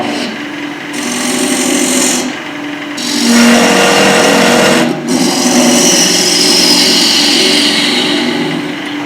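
A power tool bites into a wooden snowman carving, giving a continuous loud rasping, grinding whir with a few brief pauses and surges in intensity, close by and heard on its own.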